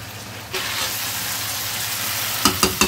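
Pieces of dhai fish drop into hot oil, breaking a quiet hiss into a loud, steady sizzle that fills the pan, followed by a few sharp clatters near the end.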